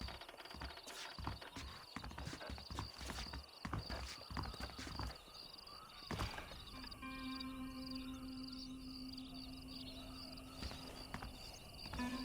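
Horses clip-clop steadily across the ground in the Western game Red Dead Redemption, their hoofbeats dense and close at first, then easing into a quieter trot while a sustained musical drone and faint insects fill the background.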